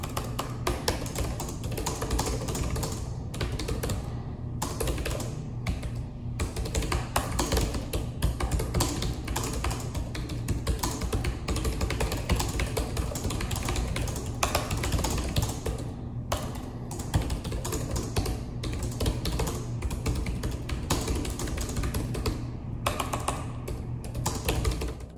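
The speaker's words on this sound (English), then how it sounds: "it also has a satisfying sound during typing, which isn't too loud either" Steady, continuous typing on an HP 14-dk1025wm laptop keyboard, soft rapid key clicks at a moderate level with a few brief pauses.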